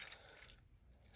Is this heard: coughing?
no